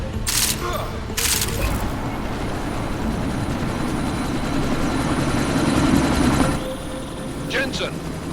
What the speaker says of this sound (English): That chopper's about to take off!